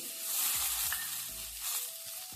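Onions fry in hot tempering oil for an okra curry, giving a brief, soft, steady sizzle with faint stirring and no voices.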